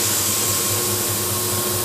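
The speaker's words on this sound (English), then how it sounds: "Push the start with cut button and turn the light." An HE&M saw runs up for an automatic cut, a loud, steady mechanical whir with a constant tonal hum and faint rhythmic pulsing low down, heard close with no talking.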